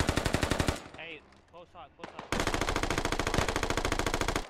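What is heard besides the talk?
gunfire in a military video game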